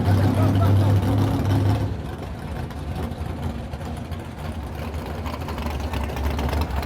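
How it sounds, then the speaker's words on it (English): A low, steady electric motor hum from an FPV-chased dragster runs throughout, slightly louder in the opening seconds, with a faint whirring texture and some wind or road noise. "You can hear the purr of the engine. This one's electric."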